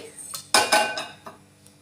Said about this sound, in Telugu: ఒక గిన్నె పెట్టుకోండి